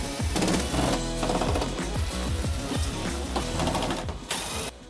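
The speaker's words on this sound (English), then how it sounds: "remove the 8 T25 Torx screws securing on this panel right here" Power tool driving out T25 Torx screws from a tailgate panel on a 2015-2017 Ford F-150, in repeated short mechanical whirring bursts, close and moderately loud.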